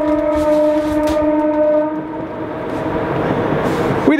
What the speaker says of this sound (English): That is the portion of the train that's going back to Oban.